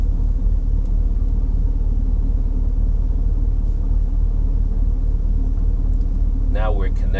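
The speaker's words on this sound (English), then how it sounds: "First, we'll start the engine." A car engine idling right after being started, a steady low rumbling drone throughout, with a brief voice breaking in near the end.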